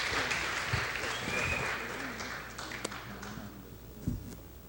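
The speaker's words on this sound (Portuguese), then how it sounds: "Uma salva de palmas para Bernardo e a Lud" An audience applauds two participants at a community event, a soft, steady clapping that gradually thins and fades away.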